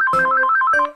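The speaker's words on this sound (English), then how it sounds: "If you can hear the phone ringing in the background," A phone rings nearby with a bright, warbling electronic tone in two quick bursts, loud and clear, fading out at the end.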